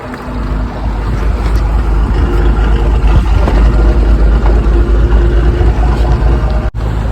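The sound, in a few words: fishing boat engine running at sea, Porbandar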